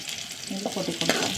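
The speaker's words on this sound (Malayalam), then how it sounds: "കറിവേപ്പില, ഉള്ളി ഒന്ന് മൂത്ത് വരട്ടെ നന്നായിട്ട്" Onions, curry leaves and dried red chillies frying for an old-style curry, a soft steady sizzle with a person talking over it.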